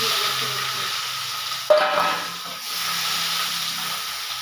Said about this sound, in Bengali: পেঁয়াজটা লাল করে ভেজে